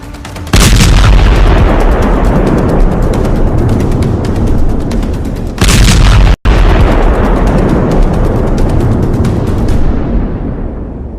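A massive, roaring explosion from a Houthi attack fills the air with sustained deep rumbling, a second surge hits midway, then the roar slowly fades out.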